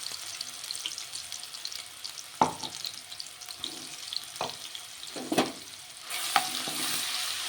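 Spices with green chillies fry in a pan in a low steady sizzle, broken by a few close scrapes and knocks of a spoon as they are stirred, with no voices.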